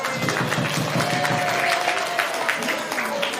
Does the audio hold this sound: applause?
yes